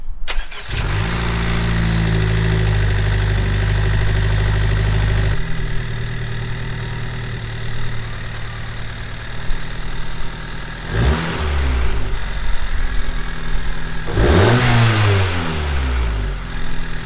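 A Honda Civic engine with a newly installed PRL intercooler cranks, catches and settles into a steady, loud idle, then gets two short throttle blips that rise and fall near the end.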